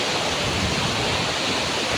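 A mountain river near Vasudhara waterfall rushes steadily, a loud, dense broadband roar of flowing water that holds unbroken for the whole stretch, with no voices over it.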